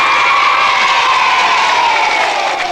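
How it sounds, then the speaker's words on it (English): Loud burst of audience cheering and applause for Miss Bagley in Bulwell, a dense, sustained crowd roar with children's shouts blended in, holding steady at close range throughout. "Big burst of applause for Miss Bagley."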